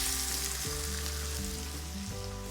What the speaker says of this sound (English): And then we get the blanched chard into the pan